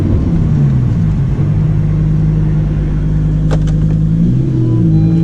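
A Lamborghini Huracan Performante drives on autobahn and forest roads, heard from inside. The engine drones loudly and continuously, and its pitch slides gently up and down with the rough rumble of the road.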